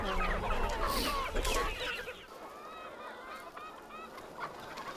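Farm chickens fed live insect larvae cluck and squawk in a busy flock, loud noisy calls at first, then lighter scattered clucks from many birds continuing throughout.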